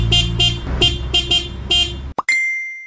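A new horn on a Suzuki Every Wagon minivan sounds up close: a run of short, bright, chirpy beeps in quick rhythm, then a brief gap and one sustained electronic tone, with no talk.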